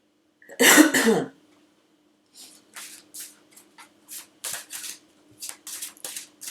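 Tarot cards shuffled by hand in a quiet room, a series of short papery riffles and slides coming in uneven bursts, preceded by one louder rustle near the start.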